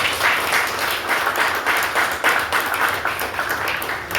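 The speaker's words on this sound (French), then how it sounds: "Mes agents de sécurité, je vous demande de les applaudir." A crowd applauds security agents at a union anniversary celebration, sustained, even clapping from many hands heard at moderate distance, steady throughout without speech.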